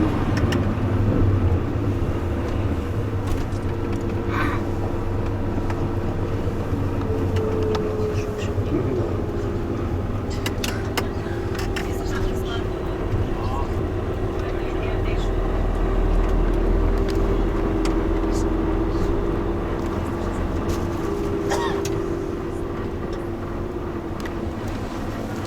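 City traffic on the Pest side of Budapest rumbles steadily, with engines droning and vehicles passing at a middle distance, a continuous low roar punctuated by faint clicks and knocks, and a voice briefly audible beneath it.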